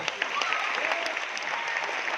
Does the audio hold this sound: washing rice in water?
no